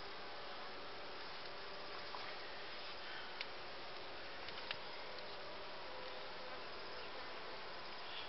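Honeybees hum in a steady, faint drone at an open hive as a queen bee is released into a small split colony, with occasional soft ticks and clicks and no talking.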